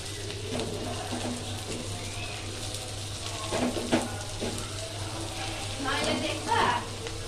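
Chopped onion sizzles in a pan with fried garlic, a steady crackle broken by a few louder bursts and scraping stirs near the end.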